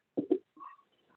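A short, sharp nasal burst in two quick bursts, close by, followed by a faint murmur; no clear talking over it.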